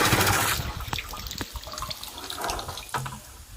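Water running from a tap into a container while mixing a brown sugar and shrimp paste culture for EM4 bacteria at a traditional fish pond; steady close gushing with a couple of knocks.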